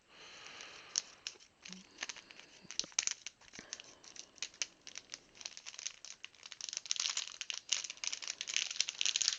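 Scissors snipping and plastic crinkling as sealed PC part packaging is cut open, close and fairly quiet, with irregular sharp clicks and rustles throughout.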